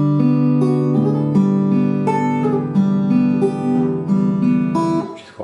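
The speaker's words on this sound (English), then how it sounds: "keep the pressure on the string so you actually get a sliding effect in between" Fingerpicked acoustic guitar notes ring out together, one finger sliding along a string between pitches. A steady, close, fairly loud passage ends with a brief scuffing noise.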